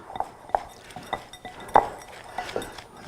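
Butter being mixed into baking ingredients in a bowl for Valentine's baking, heard as a series of light clinks and scrapes of a utensil against the bowl at an irregular rhythm, close and fairly quiet, with no talking.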